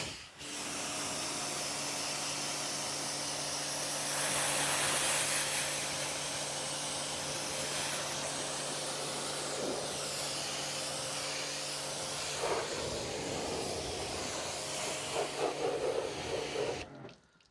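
Pressurised water spray rinses leftover grime from a car after snow foam and decon shampoo, a steady loud hissing wash running nearly nonstop with shifting intensity and brief splashy bursts toward the end.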